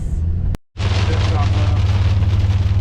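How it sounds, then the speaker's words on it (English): Heavy rain drumming on a moving vehicle towing a trailer on a highway during a storm, a loud, dense roar of drops over a low engine hum with a brief dropout near the start, then constant. "I'm pretty sure it's just heavy raindrops, but we thought it might have been hail for a little bit."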